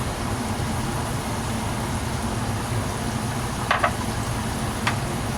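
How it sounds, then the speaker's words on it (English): Bacon frying in a pan on a country homestead gives a steady, close crackling sizzle, with a few sharp utensil clicks late in the stretch. "First batch of bacon."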